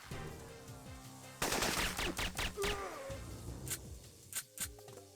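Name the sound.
gunfire in the Syphon Filter video game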